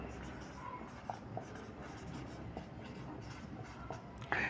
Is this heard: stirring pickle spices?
no